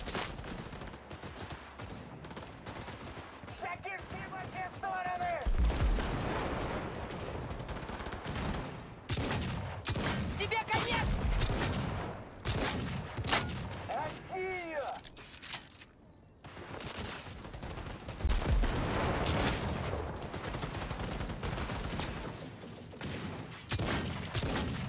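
Sustained bursts of gunfire fill a video game battle, rapid volleys and single shots cracking nearly without pause, loud and close, with only scattered quiet gaps.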